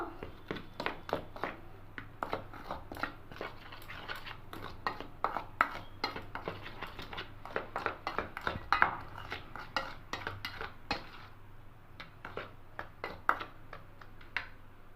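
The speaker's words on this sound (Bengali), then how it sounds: "এবার সমস্ত উপকরণকে মিশিয়ে নেব" Spoon and metal bowl clink and scrape steadily as cumin powder, salt and other spices are stirred together, a quiet, busy rhythm of light taps with no talking.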